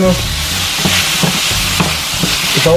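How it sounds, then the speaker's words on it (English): A spoon stirs ackee and saltfish in a hot pan, sizzling steadily with soft scraping strokes repeating about every half second, close and moderately loud, with no speech. "Stir that up. Stir it up, little darling, stir it up."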